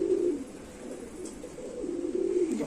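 A pure Sialkoti pigeon coos in a few low, rolling phrases, close and steady, with soft room noise around it and no talk.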